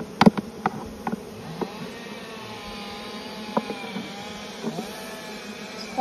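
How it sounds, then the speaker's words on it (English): Honeybees buzzing around an open beehive during honey harvesting, a continuous low drone with individual bees passing close, plus a few sharp knocks from handling the hive frames. "there's so many bees"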